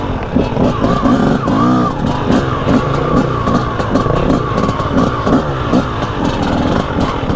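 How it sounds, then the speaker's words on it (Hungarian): A KTM-style TM300 two-stroke enduro motorcycle engine revs loudly and close, its raspy buzzing rising and falling in quick repeated throttle blips on an off-road ride. "Milyen szép hangja van a két tének."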